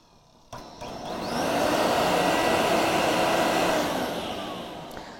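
An AspirTech model 600 vacuum cleaner switches on with a click and spins up into a loud, steady whooshing roar close by, then eases slightly toward the end.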